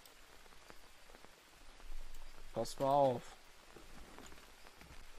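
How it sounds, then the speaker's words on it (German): Steady rain falls in the jungle survival game Green Hell, a soft continuous patter that runs the whole time while someone speaks briefly over it. "Es regnet gerade."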